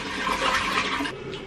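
A toilet flushes close by in a home bathroom, a brief loud rushing gush of water that falls away into a softer refill trickle, with no voices over it.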